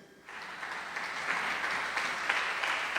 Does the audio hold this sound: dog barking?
no